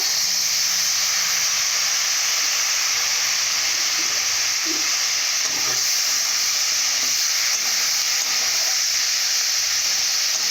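Vegetables sizzling in a pan with fried onions while Maggi masala noodles are being made, a continuous moderate hiss and crackle with a few soft stirring taps.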